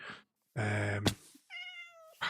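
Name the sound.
cats meowing in the video game Minecraft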